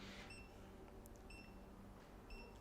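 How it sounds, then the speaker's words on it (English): Faint, short electronic beeps from a Xiaomi M365 1S electric scooter that is not activated repeat at a steady interval over a low background hum. "The reason you hear this beep is because the scooter is not activated."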